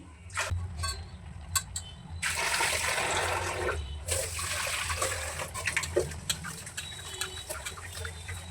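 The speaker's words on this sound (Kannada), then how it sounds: "ಅಕ್ಕಿ ತೊಳಿತಾ ಇದ್ದೀನಿ" Rice being washed in water, with a long wet sloshing rush in the middle and scattered splashes and clinks around it. The sound is fairly close and there is no talk.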